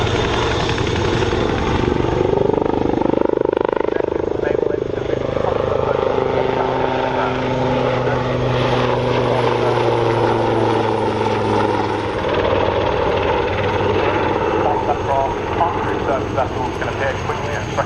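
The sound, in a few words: Royal Navy Wildcat helicopter flying by at air show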